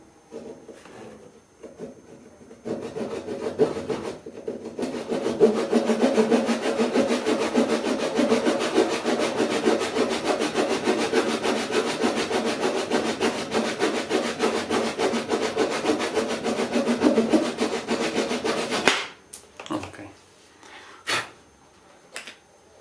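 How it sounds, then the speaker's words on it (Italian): A Japanese handsaw cuts through wood while an inlaid bois de rose drawer is being restored, making a loud, steady rasping stroke rhythm for about sixteen seconds close up, followed by a few light knocks. "e lo taglieremo con un seghetto giapponese per prima cosa."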